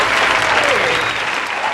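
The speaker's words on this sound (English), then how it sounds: "Round of applause." A studio audience at a podcast taping claps in sustained, dense applause that stays loud and even throughout.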